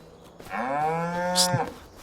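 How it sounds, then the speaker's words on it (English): A single long, clear moo from a cow in the Farming Simulator 25 video game, one drawn-out call that rises and holds before dropping off, heard alone against a quiet farm background. "Oh, we got an assortment of cattle."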